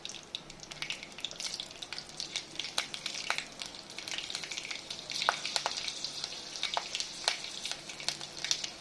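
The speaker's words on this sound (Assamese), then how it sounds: "তেল গৰম হৈ গ'ল, এতিয়া ইয়াতে মই পাঁচফোৰণ দি দিম" Five-spice seeds crackle and spit in hot oil, a dense run of sharp pops over a soft sizzle, close and fairly quiet, with no talking.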